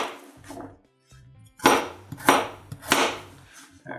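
A knife chops carrots into large stew-size pieces on a board, a few sharp, separate thuds spaced irregularly, close and fairly loud, with quieter handling sounds between them.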